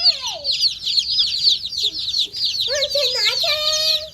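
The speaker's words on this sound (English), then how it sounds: "got even more baby chicks" Baby chicks in a brooder peep constantly in high, rapid chirps, loud and close, with a few lower clucks from older fowl mixing in toward the end.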